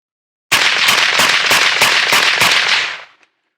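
Rapid string of suppressed gunshots from a BRN180 rifle, about a dozen sharp, loud reports in quick even rhythm over roughly two and a half seconds, ending abruptly with a short fading tail.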